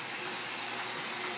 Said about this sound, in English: We're going to drain them because nobody likes that black bean water